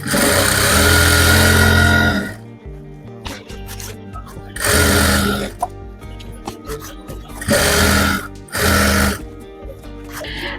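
A sewing machine stitches pleats into a salwar in loud bursts of rapid whirring, about four runs of one to two seconds each. Quieter pauses in between carry soft handling noises.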